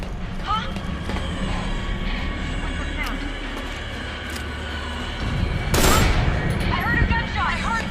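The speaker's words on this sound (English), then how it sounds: "I heard a gunshot! I heard gunfire!" Gunfire in the Metal Gear Solid 4 video game rattles under steady game noise and a low drone, swelling into a louder burst of shots near the end.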